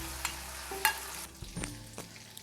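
Marinated egg pieces deep-frying in hot oil give a steady close sizzle, broken by a few sharp clinks and scrapes as they are stirred, with no voices.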